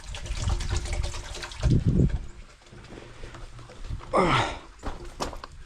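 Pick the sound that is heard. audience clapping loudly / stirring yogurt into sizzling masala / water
water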